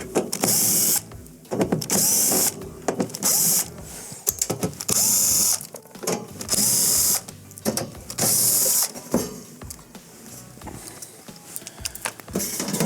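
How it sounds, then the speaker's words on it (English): Powered nut driver backing out 1/4-inch screws from the back panel of a Maytag PBF1951HEW refrigerator: repeated bursts of high whirring motor sound, each lasting about a second, separated by clicks and handling noise. "I'm going to remove the back panel by removing the 1/4-inch screws."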